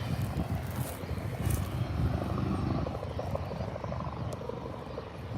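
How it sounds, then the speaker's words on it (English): A helicopter drones in the distance near Adelaide Airport, a steady low rotor rumble with wind noise and no voices. "that is that helicopter in the distance there"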